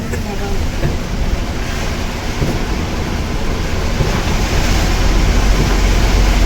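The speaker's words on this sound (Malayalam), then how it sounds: "നല്ല മഴയാണ് നല്ല ഷാറ് മഴ പെയ്യട്ടെ" A heavy downpour heard from inside a moving vehicle, a constant loud wash of rain and road rumble that swells slightly toward the end, with no clear talking.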